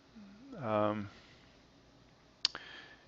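A single sharp computer mouse click, close and fairly loud, coming after a man's brief spoken phrase in a quiet room.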